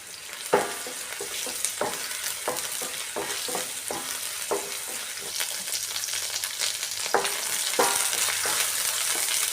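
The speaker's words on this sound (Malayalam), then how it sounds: "ഓയിൽ ഒഴിച്ച് കൊടുത്ത് ഓയിലൊന്ന് ചൂടായി വന്നിട്ടുണ്ട്. ഇതിലേക്ക് ഇഞ്ചി വെളുത്തുള്ളി ചേർത്ത് കൊടുക്കാം." Garlic and ginger sizzle in hot oil in a Kerala-style pan, a steady frying hiss broken by irregular scraping stirs, close and without talk.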